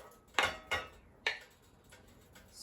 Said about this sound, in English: You're gonna put your pasta back in the sauce.